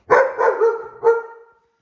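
A pet dog barks close by: one loud bark, then a second loud bark, then a shorter third, all in a quick burst in a home kitchen with no voices.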